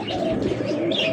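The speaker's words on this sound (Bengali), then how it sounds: "এটা অস্ট্রেলিয়ান ঘুঘু" An Australian dove of the classical almond variety coos softly and continuously at close range, a low rolling call without any talking.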